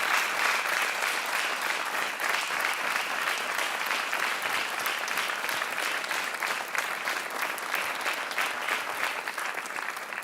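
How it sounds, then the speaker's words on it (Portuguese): Studio audience on a Portuguese game show applauds steadily for the full stretch, a dense, even wash of clapping with no break and no talk over it. "Um grande aplauso para o António e para o Rodrigo."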